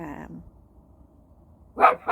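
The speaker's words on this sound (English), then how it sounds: "I'm sorry, I'm outside with my dog." A dog barks outdoors: a short bark at the start, then a louder, sharper bark near the end, with quiet outdoor background between.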